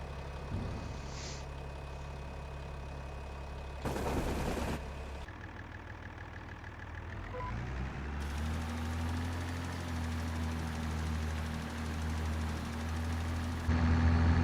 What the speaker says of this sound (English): I like this little tractor.